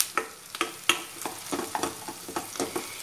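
Pepper chicken frying in a pan, with close spatula scrapes and stirring strokes at an irregular rhythm over a steady background sizzle, loud and without any voices.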